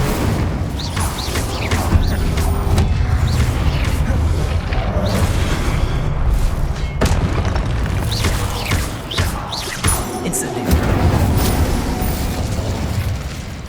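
Confringo and Incendio fire spells are cast in Hogwarts Legacy on PS5, producing loud, dense booms and fiery bursts that roll on almost without pause, with heavy rumbling impacts throughout.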